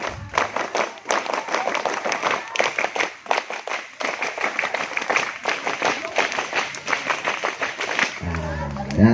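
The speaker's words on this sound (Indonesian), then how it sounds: "Tepuk pramuka 3 kali." At an elementary school scout camp, a group performs the rhythmic scout clap three times: quick bursts of sharp, patterned handclaps, close and loud, mixed with shouting voices and ending in a brief call.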